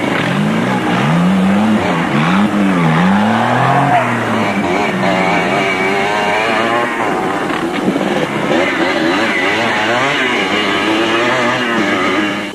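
Off-road race vehicles in a dry riverbed, including the Nissan Sani of Derek and Tina de Bruin with quad riders crowding around, in South Africa's 1998 Caledon 400. Engines rev and rise and fall loudly and continuously, with no break.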